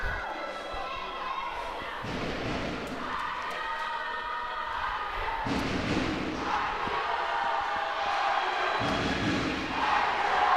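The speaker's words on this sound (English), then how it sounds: "We can hear the fans cheering out loud for their teams." Football fans at an inter-college championship final cheer and shout from the stands in a continuous crowd roar that swells at moments, with a few thuds and voices mixed in.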